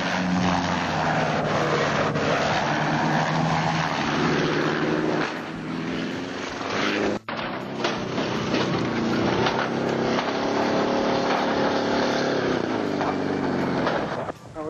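A military helicopter flying close by, a loud continuous rotor and engine roar that dips briefly midway and then holds steady.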